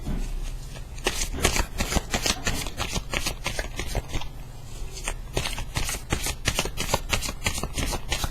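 Tarot cards are shuffled by hand in a steady run of close, crisp riffling flaps and slaps, repeating quickly and evenly with no pauses.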